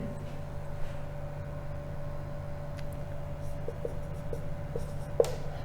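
Chalk or marker writing math problems on a classroom board, faint scratchy strokes and light taps over a steady background hum.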